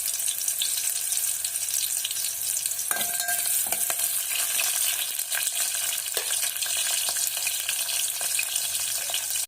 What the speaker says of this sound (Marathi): कांदा आपल्याला सोनेरी रंगापर्यंत भाजून घ्यायचा आहे